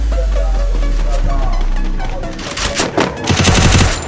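Loud, close gunfire in the video game Free Fire, with rapid automatic bursts rattling over a heavy low rumble.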